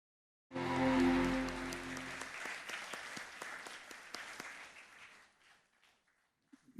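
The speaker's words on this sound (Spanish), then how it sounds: "Recibamos con un fuerte aplauso la palabra de Dios." A church congregation bursts into loud applause, sustained clapping that swells quickly, holds for several seconds, then thins out and fades near the end.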